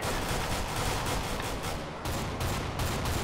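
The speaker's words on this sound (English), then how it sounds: "Nice shooting." Dense, continuous gunfire from the video game Counter-Strike: Global Offensive, with rapid overlapping shots that stay loud and close throughout and only brief dips between bursts.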